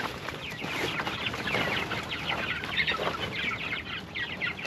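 Backyard chickens cluck steadily at moderate distance, a busy overlapping chatter of short calls from several birds with no talking.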